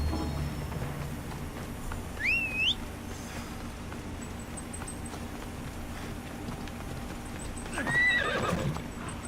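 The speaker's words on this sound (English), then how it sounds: "I called my horse before I jumped off" A horse in the video game Assassin's Creed Odyssey whinnies twice with shrill, wavering neighs, with steady hoofbeats underneath, heard over a low ambient background and no talk.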